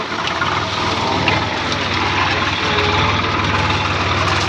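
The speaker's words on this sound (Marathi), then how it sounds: "ट्रॅक्टर रिवर्स घेऊन" A tractor engine rumbles steadily at close range while reversing with a field machine that gathers crop residue and grass, a low, continuous drone with no voices.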